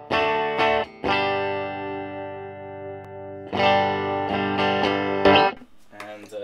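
A clean electric guitar tone through a Marshall BB-2 Bluesbreaker pedal, gain rolled down and amp volume up: sustained, ringing chords that hold, break, then return with a few shorter strums near the end.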